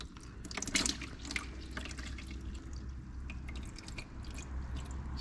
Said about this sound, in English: And this will drain the rest of our oil out.